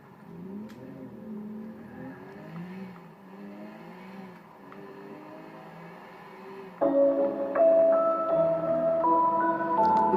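A fast car in a video game drives along with a rising, wavering engine whine, then jumps to a louder, steadier high-revving tone partway through, with no talking.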